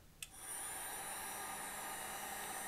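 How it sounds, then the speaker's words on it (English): A hot air machine switches on with a brief click and then blows steadily, a constant whirring hiss drying contact cement on a shoe in a repair shop, close and alone. "I'm going to nuke it with my hot air machine."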